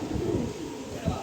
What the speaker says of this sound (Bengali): আরও এক পেয়ার আফসান গ্রিজেল কবুতর দিলাম